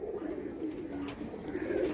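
Soft, low pigeon cooing, a continuous murmuring coo at close range with no talking.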